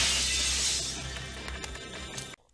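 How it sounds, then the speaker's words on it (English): A pane of glass kicked in and shattering, a loud bright crash that breaks into a tinkling spray of falling shards and small clinks before cutting off abruptly into near silence. "Kick a pane of glass!"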